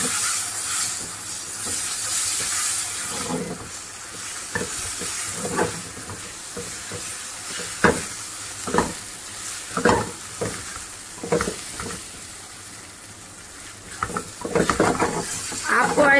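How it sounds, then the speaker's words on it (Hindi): Marinated chicken with garlic sizzles and fries in a pan, a steady hiss broken by repeated stirring scrapes and bursts of louder crackle. "अब हम इसके अंदर अपनी चिकन डाल लेंगे जो हमने मैरिनेट करके रखी"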